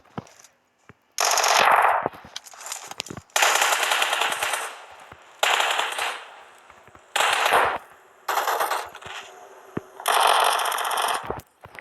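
Loud bursts of automatic gunfire from PUBG Mobile rattle in five or six long volleys separated by brief pauses, close and dominant, with sharp single shots scattered between them.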